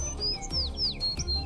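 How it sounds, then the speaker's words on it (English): Birds in a Twisted Wonderland game scene chirp in several quick, high, sweeping tweets over a soft background ambience, close and clear, with no voices. "When you listen closely, you can even hear the birds chirping and flapping their wings."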